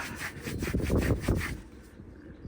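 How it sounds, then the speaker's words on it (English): A filled repair is rubbed down by hand before fiberglassing, giving a steady run of about eight rhythmic abrasive strokes, close and moderately loud, that fade out at the end with no voices. "Okay, give it a rub"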